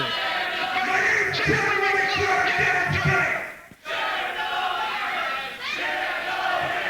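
A wrestling show audience chants and yells in unison, a dense wall of crowd voices that drops out abruptly for an instant before resuming loud and steady.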